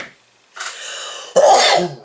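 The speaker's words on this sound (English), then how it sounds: "I've got a sneeze coming." A person sneezes at a hobby workbench while painting miniatures: a quiet sharp intake followed by a loud, close, breathy burst that trails off, with no talk.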